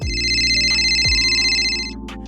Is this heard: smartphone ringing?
yes